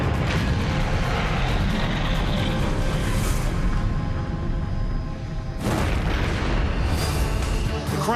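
A catastrophic explosion set off by a fire at a coupling linking a filling hose to an underground fuel tank, heard as a loud, continuous roar with heavy low rumble and a fresh burst partway through.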